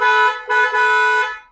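A Blaupunkt dual horn fitted to a modified Suzuki Grand Vitara honks loud and close in two short bursts, a bright, buzzy, multi-tone blare with no talking.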